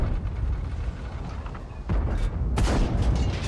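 In World of Tanks, the AMX M4 mle. 49 tank's cannon fires one heavy, booming shot, a sharp blast over a low rumbling battlefield background, followed by a second loud report and some mechanical clatter.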